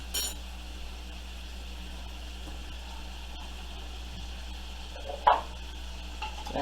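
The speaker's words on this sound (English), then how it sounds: "Our butter in there with our oil." Butter melting into oil in a pan for shrimp and broccoli fettuccine gives off a faint, steady sizzle under a low hum, broken by one brief utensil clink.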